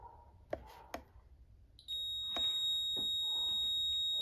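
A buzzer in a simple circuit made for testing the conductivity of materials sounds loudly and steadily once the circuit closes, after a few faint clicks.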